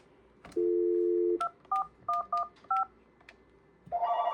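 Series of DTMF keypad tones dialing a phone extension on a 3CX phone system with a landline modem: one long steady tone, then five short evenly spaced beeps, ending with another tone starting, clear and alone.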